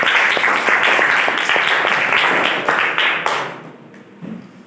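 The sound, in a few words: students applauding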